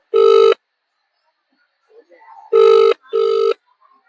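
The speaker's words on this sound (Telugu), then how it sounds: "మహేష్ మళ్ళీ ఫోన్ చేసి మళ్ళీ కట్ చేస్తున్నాడు మహేష్ మన ఫోన్కి." A phone rings in three short electronic bursts, one then a pause and two close together, loud and near, as a call keeps being placed and cut off; faint murmuring sits in the gaps.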